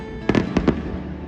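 Fireworks going off in Zushi, Japan, a few muffled booming bursts in quick succession, heard from a distance over a steady background hum.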